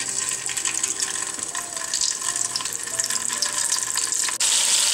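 Boiled eggs frying in oil with turmeric in a pan for egg kurma, a continuous close hissing sizzle that swells slightly near the end, with no talking.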